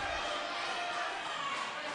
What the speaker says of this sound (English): And you hear the crowd react.